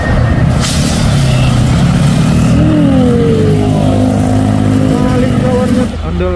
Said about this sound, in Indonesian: Ada dua unit truk Hino.